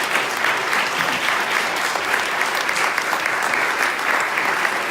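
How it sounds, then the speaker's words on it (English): An audience at a public meeting on changing the Massachusetts state flag and seal applauds its speakers, a continuous, even round of clapping from a moderate-sized crowd that holds steady to the end. "let's give a round of applause to folks"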